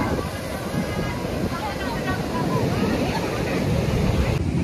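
Sea waves wash in at a beach in Goa, a steady broad rush of surf under wind and the murmur of a crowded shoreline, with voices talking nearby.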